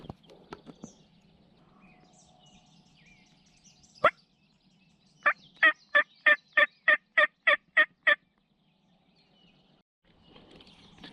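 Rio Grande wild turkey gobbling on public land in Colorado, heard as one sharp call followed by a rapid run of about ten evenly spaced gobbling notes, moderately distant, with outdoor quiet around them.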